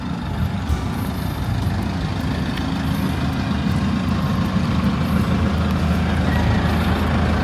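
A van pulls up and its engine runs nearby at a steady, low idle, a continuous rumble with no voices over it.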